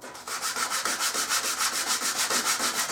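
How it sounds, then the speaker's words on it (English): A painted surface on a Tiger Rat build is sanded down by hand in steady back-and-forth strokes, about five per second, each a close, loud raspy swish with no talking. "Give it a good sand down."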